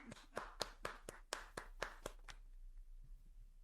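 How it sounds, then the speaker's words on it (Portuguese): Hands clapping in applause as a guest is welcomed on a podcast: about ten sharp, evenly spaced claps from a single person or a small group, close and distinct, fading out into quiet room tone. "palmas para Jô Nascimento"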